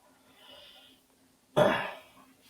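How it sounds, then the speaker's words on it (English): A single sharp cough bursts out close to the microphone, short and fairly loud, after a faint breath. "I keep coughing over here."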